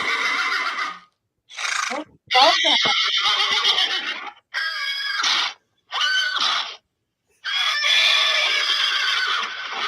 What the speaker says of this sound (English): Who did the horse sound?